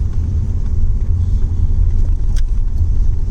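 A Lexus SC300 engine runs with a loud, steady low rumble close by, idling without obvious revving, no speech over it.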